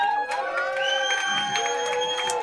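A bistro crowd at a rock concert cheers and claps, sustained whoops and voices over scattered applause, with ringing tones from the stage lingering underneath.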